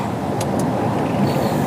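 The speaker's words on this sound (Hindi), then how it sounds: "एसी चालू करते ही उसमें आवाज़ आने लगा।" Steady engine and compressor drone from a Maruti Swift idling with the AC just switched on and a compressor noise fault, loud and continuous, with two brief high squeaks early on.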